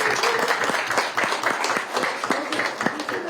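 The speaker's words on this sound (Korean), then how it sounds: "박수로 한번 해주시죠." Applause from an audience at a Korean political forum, greeting veteran members of the 3.15 Masan uprising commemoration society: a steady patter of individual claps, fairly close and sparse enough that single hands stand out.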